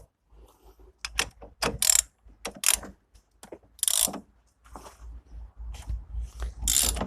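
Ratchet with socket and extension loosening the drain plug on a Volkswagen Polo 1.2 12V, sharp close bursts of clicking in short uneven strokes separated by brief pauses.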